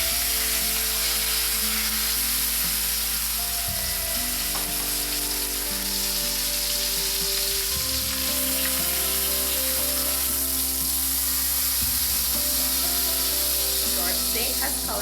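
A steak, just flipped after searing, sizzles loudly and continuously in a hot pan, a dense steady hiss that fills the whole stretch without talk.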